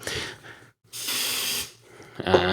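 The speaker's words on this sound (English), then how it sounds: "I just sprayed an aerosol deodorant at the microphone." An aerosol deodorant can sprays straight at the microphone in two hissing bursts, a short one and then a longer, loud, close one, with a brief gap between them.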